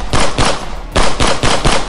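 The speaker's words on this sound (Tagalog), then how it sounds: "may mga ilan-ilan pa ring putok ng baril ang nanggagaling mula sa mga manggagaway" Gunfire used as a sound effect in a spoken audio drama, loud bursts of rapid shots in two clusters with a short gap between them.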